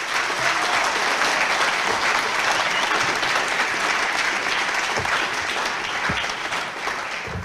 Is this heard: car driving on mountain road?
no